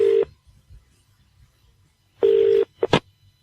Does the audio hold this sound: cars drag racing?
no